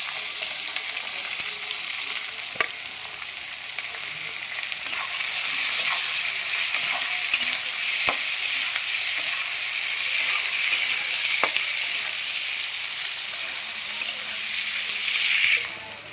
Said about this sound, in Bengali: এবার পেঁয়াজটাকে আমি লাল লাল করে ভেজে নেবো একই তেলে।